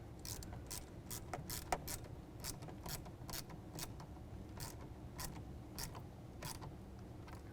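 Faint, quick metallic ratcheting clicks come in irregular bursts as a band clamp is tightened on a cold air intake of a 2017 Ford F-150 5.0L V8, close by and quiet, with no talking.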